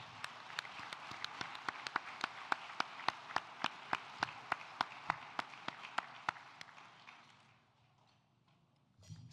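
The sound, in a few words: applause for a donor at a dinner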